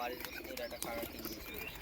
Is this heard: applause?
no